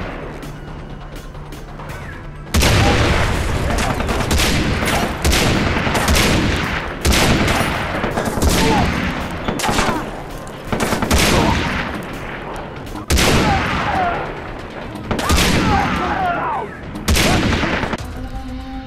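Gunfire in the video game Far Cry 3 crashes out in repeated loud bursts of shots, volleys spaced every couple of seconds after a quieter opening, with little talk.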